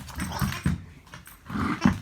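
A dog growls and whimpers in short bursts while tussling over a ball during play, close by, with no talking.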